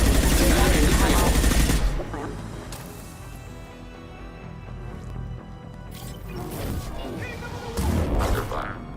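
Gunfire in the game Mass Effect Legendary Edition: a loud continuous burst for about two seconds, then quieter rattling shots and impacts. A voice speaks briefly over the combat.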